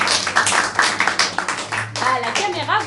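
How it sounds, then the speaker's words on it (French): Applause from a theatre audience at a one-person improvised stage show, greeting the technical crew with a burst of clapping that mixes with talk and a short vocal moment near the end. "vous avez Julie et Samuel, que vous pouvez applaudir bien fort."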